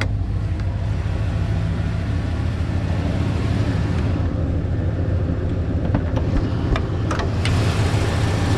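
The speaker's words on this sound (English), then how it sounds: "As you can hear, the truck is running smooth." A 1995 Ford Bronco's engine idles under the open hood, a steady, smooth low rumble that holds even throughout, with a few faint clicks near the end.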